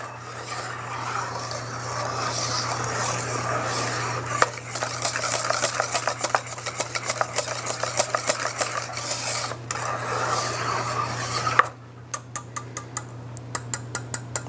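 A whisk or spatula scrapes rhythmically through thick vanilla crème pâtissière as butter is worked in, a steady close rasping that breaks off near the end into lighter, sparser strokes.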